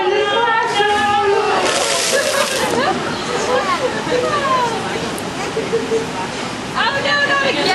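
A beluga whale named Emac sends a burst of water splashing over the splash zone at a Vancouver Aquarium show, a brief rushing wash while a presenter talks loudly and a crowd murmurs.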